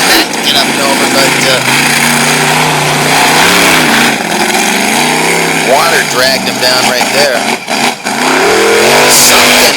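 A monster truck engine revs hard during a race in Sarver, Pennsylvania, its pitch rising and falling in loud surges under continuous commentary.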